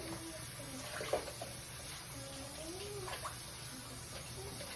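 Tap water runs quietly as raw chicken livers are rinsed in a kitchen sink, a soft continuous trickle with faint splashes and a couple of small clunks, recorded low and close.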